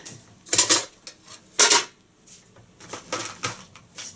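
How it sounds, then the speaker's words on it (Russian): Camping spoons and a small teaspoon clink and rattle together as they are handled, several sharp metallic clatters in quick bursts, close by, with no voices. "Ну и чайная ложечка."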